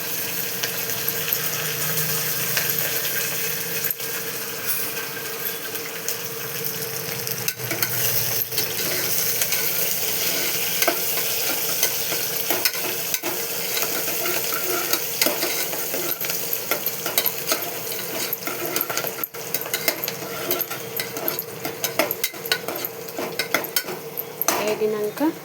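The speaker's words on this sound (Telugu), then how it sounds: "ఉల్లిపాయ, ఇవి కూడా కొట్టు. ఇవి కొంచెం వేగాలి." Chopped onions fry and are stirred in a pan while cooking, giving a continuous loud sizzle with steady scraping and clinking of a utensil against the pan throughout, with no talk.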